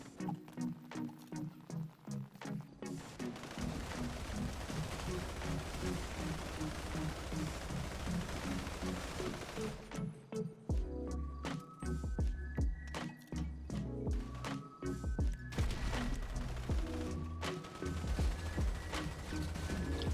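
Gunfire in the video game Mansion Raids: dense, loud bursts of rapid shots and impacts fill the clip, with short pauses and scattered sharp cracks under game music.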